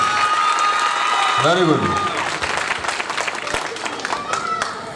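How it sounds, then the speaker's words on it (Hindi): Audience applause at a college annual function in Barwani rises and continues steadily for several seconds, dense and close, with someone speaking briefly over the clapping. "जोरदार तालियां आप अपने लिए बजाइए।"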